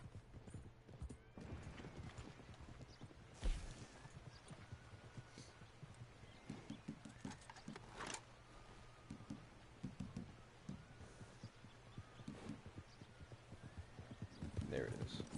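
Horse hooves clip-clop steadily in the video game Red Dead Online, a brisk, even gait with an occasional whinny, faint and close under quiet background sound.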